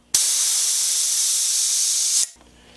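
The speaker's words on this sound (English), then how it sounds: "I'll pull this little valve, purge it out." Air purges through the small valve on a propane tank during refilling, one loud close continuous hiss lasting about two seconds that starts abruptly and cuts off sharply.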